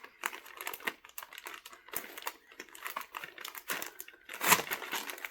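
A small plastic drawstring bag from a cosmetics box is handled up close, giving soft, irregular crinkling and rustling with quiet gaps between the bursts.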